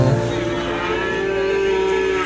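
A cow moos loudly and close in one long, steady, droning call at a busy goat and cattle market in Brenggolo, with crowd noise faintly beneath.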